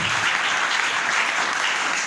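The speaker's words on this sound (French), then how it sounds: "Applaudissons notre Dieu." A church congregation applauds during a French-language sermon, a dense, even wash of many hands clapping at once, loud and sustained with no pause or talk.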